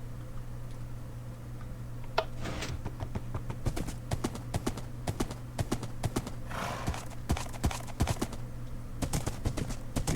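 Horse hooves clip-clop steadily in a Minecraft world, a brisk run of sharp, close knocks over a constant low hum, with occasional louder clicks.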